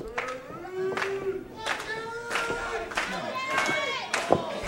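Independent wrestling crowd cheering and clapping in a venue during a match, bursts of claps and shouts rising in waves under ongoing commentary.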